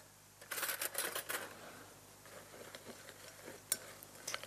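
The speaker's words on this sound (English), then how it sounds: "About half a cup or so of flour. Stir that together" Flour and butter for a crumb topping are being stirred in a bowl, with soft, faint scraping and tapping that starts as a busy flurry and then thins out to sparse light touches.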